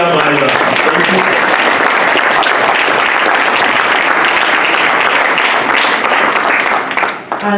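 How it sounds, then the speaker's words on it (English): Loud, sustained applause from a summit audience giving a standing ovation for a youth and gender affairs representative, steady dense clapping throughout that tapers slightly at the very end. "As a loud applause for Lydia Maida."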